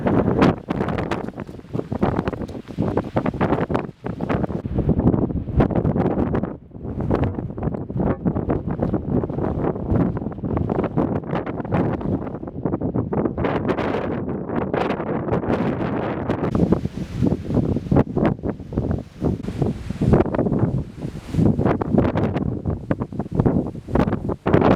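Blustery wind roars across open moorland at Higher Shelf Stones in the Peak District, buffeting the microphone in loud, continuous gusts that rise and fall throughout, with no voices.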